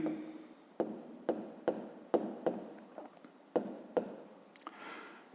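Pen on paper writing out a fifth-grade maths exercise: a quiet, close scratching with repeated sharp taps as numbers and symbols are written, and no clear voice.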